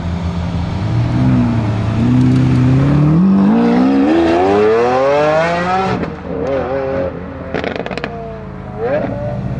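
A Lamborghini Aventador S Roadster's V12 engine revving hard, pitch climbing steadily through the gears with loud, close roaring, then sharp shifts and crackling blips as the revs drop and rise again.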